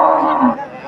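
A single low, drawn-out cow moo lasting under a second, close and fairly loud, at a dairy cow market in Bogura, Bangladesh.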